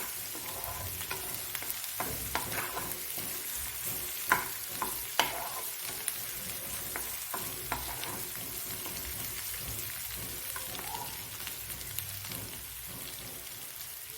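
Small fish frying in plenty of oil for a mango curry, a steady broadband sizzle with scattered pops and crackles, close and continuous throughout with no voices.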